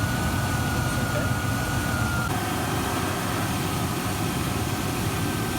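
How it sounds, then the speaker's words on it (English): A Rover SD1 engine with carburettors idles steadily at operating temperature, giving a continuous loud low rumble with a faint high whine throughout and no break. "Engine speed's good, but I'll just check the engine speed."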